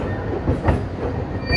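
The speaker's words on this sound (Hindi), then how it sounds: "अब ट्रेन हमारे को क्रॉस कर रही है यहाँ से, और हमारी ट्रेन ने भी डिपार्चर लेना स्टार्ट कर दिया है" Passenger trains on Indian railway tracks, one passing alongside while another starts departing, a steady low rumble with faint clickety-clack heard from inside a carriage.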